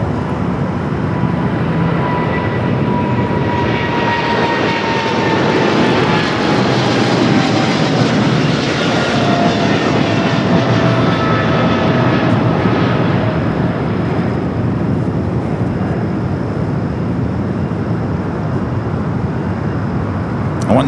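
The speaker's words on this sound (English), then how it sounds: "We got Aerologic Box 777 freighter heading Leipzig." An AeroLogic Boeing 777 freighter jet departs LAX, its engine roar loud and steady for the full stretch, swelling broad and rumbling through the middle and holding strong to the end.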